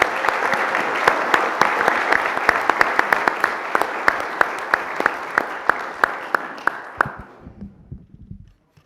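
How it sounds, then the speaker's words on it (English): Audience at a city council meeting applauds in a dense, steady burst of clapping with sharp individual claps standing out, then the sound dies away abruptly near the end. "Let's give them a round of applause for their accomplishment."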